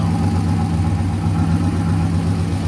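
An Isuzu Trooper's engine idling at around 900–1,000 rpm through a race bullet exhaust, a smooth, steady low-pitched drone that stays close and even without any revving or voices.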